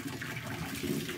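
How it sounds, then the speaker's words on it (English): Hot water is poured into a kitchen sink as part of a sink-shining routine, a steady soft rush and splash of liquid heard alone at low level for about a second. "Then you pour hot water"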